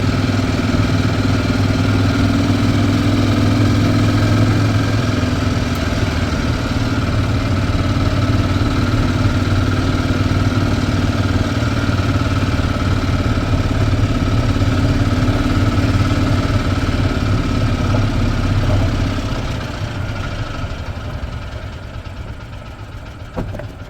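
A 2010 Yamaha Drive G29 gas golf cart engine idles steadily and loudly up close with a constant throbbing drone, then dips and fades near the end as the fuel-starved engine falters.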